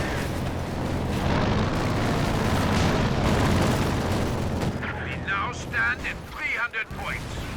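Machine gun and artillery fire in the World War II strategy game Company of Heroes 2, a dense, loud continuous battle roar of gunfire and blasts, with a commentator's voice breaking through near the end.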